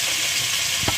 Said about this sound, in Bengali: পেঁয়াজ কুচি দিয়ে দিলাম, ভেজে নেব।